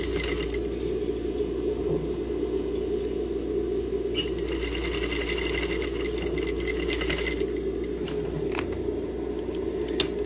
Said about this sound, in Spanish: Entonces hacemos la costura aquí.